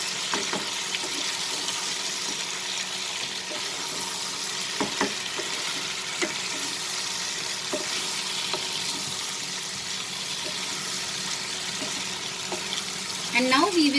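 Ivy gourd and potatoes fry in a pan over a medium-high flame, a continuous soft sizzle broken by occasional clinks of a spatula stirring, with a voice talking near the end.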